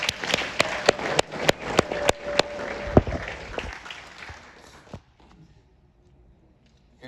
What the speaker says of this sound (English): Let's give God a round of applause for that.